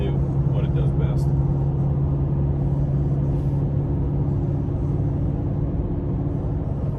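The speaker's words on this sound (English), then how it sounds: "Going up this really steep grade, it gears down nicely." A 2021 Toyota Sequoia TRD Pro with a six-speed automatic climbing a steep grade, its engine a loud, steady, low drone that holds throughout.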